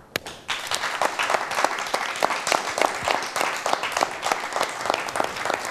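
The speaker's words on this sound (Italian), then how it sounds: "Un grande applauso ancora a loro." A theatre audience at a magic show breaks into applause after a card trick, dense rhythmic clapping that swells quickly and holds steady throughout with no talking.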